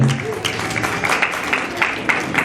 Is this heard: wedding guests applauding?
yes